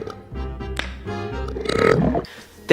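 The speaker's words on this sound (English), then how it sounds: "like the Shaggy and Scooby burping contest" Shaggy and Scooby hold a burping contest in a Scooby-Doo film, with long, loud, drawn-out belches that rumble close up, ending in a sharp final burst.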